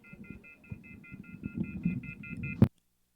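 A malfunctioning telephone gives off a run of about a dozen short, evenly spaced dial tones over a rumbling background. The sequence ends in an abrupt loud click, then silence.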